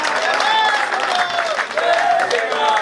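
An audience at a Hindi comic poetry gathering claps together, a dense, sustained burst of applause with a voice speaking over it throughout.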